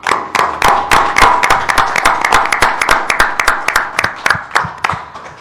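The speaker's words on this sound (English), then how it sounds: "you all deserve a great round of applause" Close, loud clapping from a small group, with sharp distinct hand claps in an uneven rhythm that keeps going steadily, a few hands near the microphone standing out above the rest.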